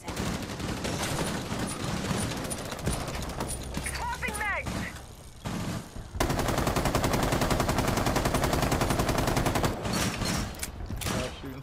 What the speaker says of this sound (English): Shooting for a second.